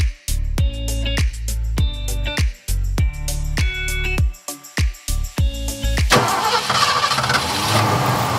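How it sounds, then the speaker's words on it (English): A small rental car on Margaret Island in Budapest cranks in a steady series of repeated starter pulses for about six seconds, then catches into a rougher, continuous engine noise close by, with no talking. "This cute car is going to be our ride for the next half hour."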